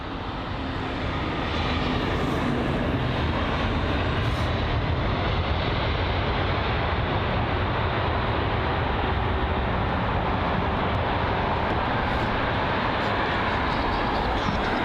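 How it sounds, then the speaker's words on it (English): A Scandinavian Airlines A320neo at London Heathrow produces a loud, broad, steady jet engine roar that swells within the first seconds and holds at full strength throughout. "This is the Scandinavian A320neo."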